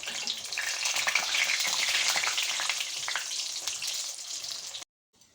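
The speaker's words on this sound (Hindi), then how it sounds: "घी हमारा गर्म हो चुका है। अब हम डालेंगे इसमें अपने समोसे इस तरह से" Samosas dropped into hot ghee fry with a steady bright crackling sizzle, close and continuous, cutting off abruptly near the end with no voices.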